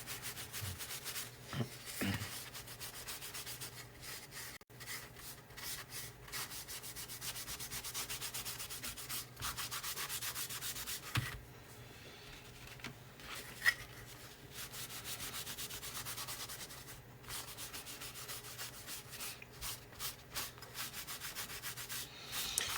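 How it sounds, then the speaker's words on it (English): Sandpaper working the rough edges of a wooden craft piece, with close, quiet rhythmic rasping strokes in repeated bursts and brief pauses, plus an occasional light knock, no speech. "I'm going to sand this a little bit because I've got some little rough edges because I use wood"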